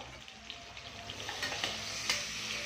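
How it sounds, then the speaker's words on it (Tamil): Steady sizzling of chopped onions sautéing in a pan until golden brown for chicken biryani, a constant crackle with occasional sharper pops and faint stirring, close by with no talking. "இதை நல்ல கோல்டன் ப்ரௌன் கலரில் வர்ற வரைக்கும் இதை சாட்டே பண்ணிக்கணும்."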